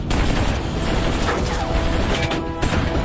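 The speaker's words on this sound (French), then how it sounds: "Attention, c'est la mitrailleuse qui nous tire dessus!" Rapid, sustained machine-gun bursts hammer through a war-themed video game battle set in the Mali desert, loud and continuous with crashing impacts layered over them.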